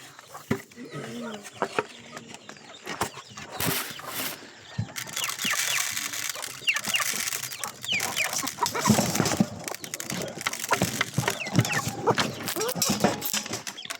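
Pigeons being fed: fluttering wings, scattered pecks and soft cooing mixed with rustling and footsteps, while a person talks on and off nearby throughout.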